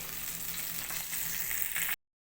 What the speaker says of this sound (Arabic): بصوا القرمشه، صوت القرمشه وهي في الزيت